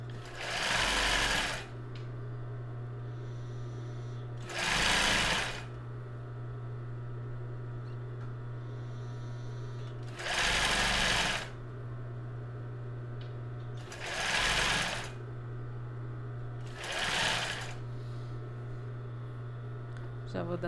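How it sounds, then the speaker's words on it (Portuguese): A sewing machine runs a wide zigzag stitch on a strapless topper in five short bursts of about a second each, spaced by pauses over a steady low mains hum, close and clear. "E começo a costurar."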